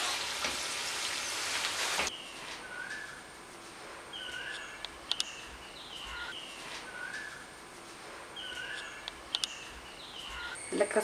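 An egg-based sweet snack deep-frying in hot oil gives a soft, steady sizzle, loud and hissing at first, then settling into a quieter bubbling with faint chirping sounds in the background.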